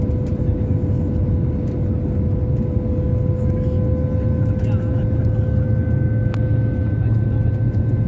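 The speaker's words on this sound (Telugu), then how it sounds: "లేహాలో మూన్ కనిపిస్తుంది ఫ్లైట్ దిగేటప్పుడు." Inside a passenger airplane landing at Leh airport, a steady loud engine drone fills the cabin with a constant low roar and a fixed humming tone throughout.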